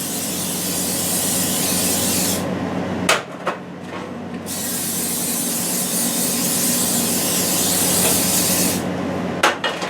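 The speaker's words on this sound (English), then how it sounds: "we're going to spray all these with cooking oil" Two long, loud hissing sprays from an aerosol can of cooking oil coating cake pans, separated by a few clicks and light knocks, then a brief third burst at the end.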